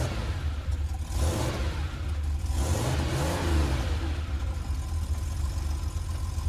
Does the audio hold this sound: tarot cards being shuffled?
no